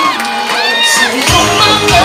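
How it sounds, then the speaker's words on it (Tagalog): A live comedy show audience cheers and shouts together in a loud, continuous burst of mixed voices lasting about two seconds, with higher-pitched whoops rising near the start and end. "parinig naman po ng palakpakan ng magkasamang sigawan"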